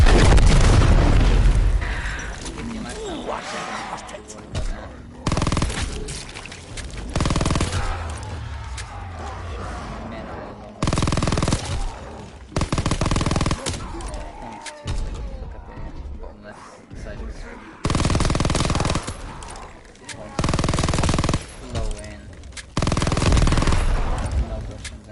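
Bursts of SMG fire in Call of Duty WW2 Zombies come in repeated loud volleys separated by short pauses, with booming impacts mixed in.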